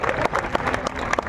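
Audience clapping at a comedic speech event in Buldhana, a dense burst of many hands with sharp individual claps, close and steady for a moment.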